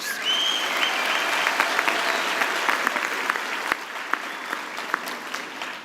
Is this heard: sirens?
no